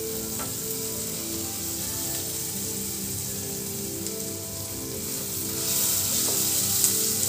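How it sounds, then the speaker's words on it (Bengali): Onion, ginger, garlic and tomato fry in oil in a pan for a paneer dish, a steady close sizzle with light crackles and occasional stirring, growing slightly louder toward the end. "যাতে টমেটোটা নরম হয়ে যায় সেই অবধি পেঁয়াজ আদা রসুন টমেটো ভেজে নিতে হবে"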